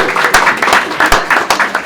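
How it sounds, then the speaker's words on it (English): Audience applause for a panel of speakers at an Indigenous entrepreneurship event, with a steady wash of many hands clapping at close range and irregular sharper claps throughout. "We'll give the panelists a round of applause for their amazing insights"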